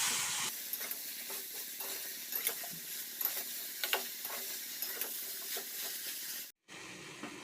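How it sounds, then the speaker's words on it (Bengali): Drumstick pods and mixed vegetables sizzle steadily in hot oil with salt and turmeric, stirred with intermittent scraping clicks, close and continuous for several seconds before a brief cut. "এবার নুন আর হলুদ দিয়ে আমি এটাকে খুব ভালো করে সবজিগুলোকে কষে নেব।"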